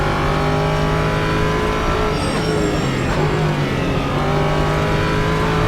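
An LMP3 prototype race car laps Road Atlanta in the Assetto Corsa racing game, its engine a loud, continuous drone with the pitch shifting as it brakes and accelerates. No voices are heard.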